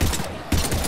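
Short bursts of automatic weapon fire in the Mass Effect 3 video game, two loud clusters of shots separated by a brief gap during a battle against husks.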